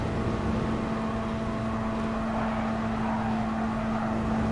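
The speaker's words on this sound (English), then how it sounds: "Meanwhile, I'm being overtaken by the Mustang." Ford Mustang race car in Gran Turismo Sport, a steady droning engine roar held at high speed with a constant tonal whine, unbroken throughout.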